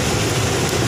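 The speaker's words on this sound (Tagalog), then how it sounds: "Basang-basa tayo ng ulan." Steady rain pours down outside a roadside eatery in Cainta, Rizal, a dense, loud, continuous hiss with no pauses.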